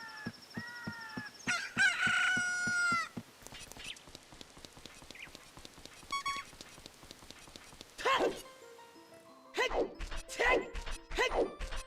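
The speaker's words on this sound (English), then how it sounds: "Wait, is the daytime sound actually the chicken?" Rooster crowing at daybreak in Ocarina of Time, one loud crow at the start, followed by rhythmic in-game clopping and clattering effects and bursts of speech later.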